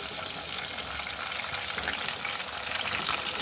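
Tomatoes go into hot oil already holding garlic, ginger and onion for a kofta curry, setting off a steady, dense sizzle that fills the whole stretch without any talk.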